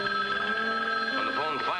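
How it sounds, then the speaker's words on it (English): A telephone bell rings in a trilling, continuous burst in an old-time radio drama scene, bright and close, with the ring tone wavering toward the end. "When the phone finally rang,"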